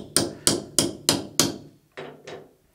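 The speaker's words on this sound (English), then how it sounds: "We're going to go ahead and take our extractor socket and pound it down on there." Hammer pounding an extractor socket down onto a stud, with seven sharp metallic blows in a steady rhythm, the last two slightly softer after a short gap.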